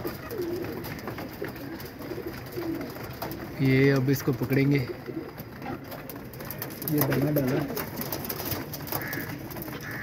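Pigeons coo in low, throaty bursts near a net, a couple of clear rounds close by, while someone talks over the birds and background chatter.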